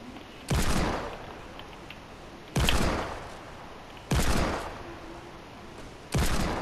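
Four loud gunshot blasts from Fortnite gameplay ring out about every 1.5 seconds, each sharp crack trailing off into a short decay over a low steady background.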